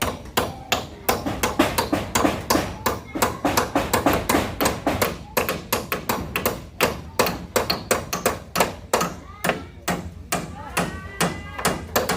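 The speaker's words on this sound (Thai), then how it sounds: "ตอกตะปูบ้านนี้" Rapid, sharp hammer blows ring out in a steady rhythm, dozens of strikes close by, as nails are driven into a house roof under construction, with occasional voices in the background.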